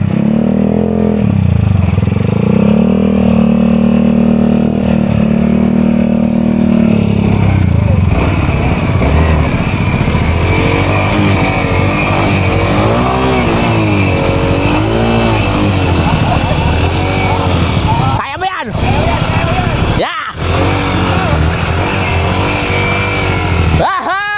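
A loud, large motorcycle engine runs throughout, pitch rising and falling as it revs, with excited voices shouting over it as it squeezes through a tight space.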